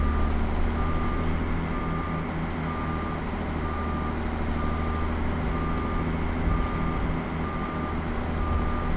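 A truck in American Truck Simulator reverses with the clutch let out and throttle fed, its backup alarm beeping in a steady, evenly spaced rhythm over a constant low engine drone.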